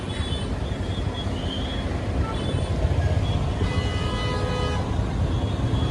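Busy street traffic outside, a steady dense roar of engines with several car horns honking and tooting intermittently, moderately loud and close, a faint voice occasionally audible beneath the din.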